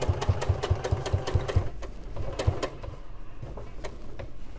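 A sewing machine stitches a cushion cover with a fast, even run of needle strokes at close range. The stitching slows and pauses partway through, then a softer mechanical whir continues with no voices.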